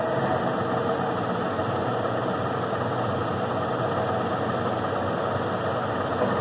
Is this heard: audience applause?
no